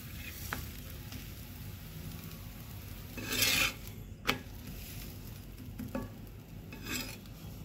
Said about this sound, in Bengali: পরোটাটা দিয়ে দিলাম, তারপর এক পাশটা সেঁকে নিই